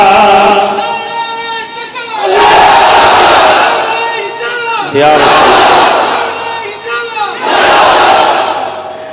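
A large crowd at an outdoor religious sermon chants Subhanallah in unison, loud and roaring, in three or four sustained swells separated by short pauses.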